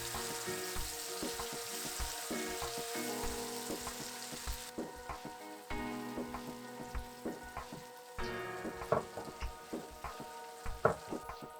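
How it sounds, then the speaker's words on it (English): Ghee roast masala paste for mutton ghee roast sautés in a pan with a steady, close sizzle and frying crackle, punctuated by repeated utensil stirring knocks and scrapes, with no talking. "Now add the ghee roast masala paste and saute for about 2 minutes."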